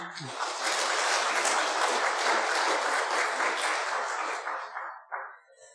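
Congregation in a church applauding for the choir, a full, even round of clapping lasting several seconds before fading out with a few final isolated claps.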